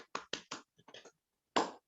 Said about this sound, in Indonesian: Kita beri tepuk tangan dulu buat Pak Derajat